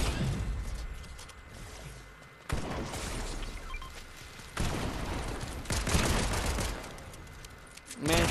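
Rapid bursts of gunfire in the video game Fortnite, loud and near, with several sustained volleys separated by brief gaps.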